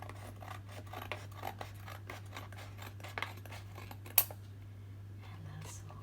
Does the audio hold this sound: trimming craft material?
yes